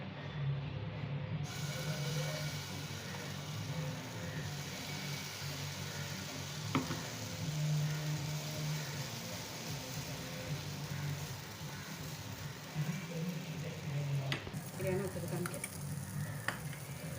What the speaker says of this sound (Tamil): இப்போ அடுத்த பேன்கேக் ஊற்றிக்கலாம்.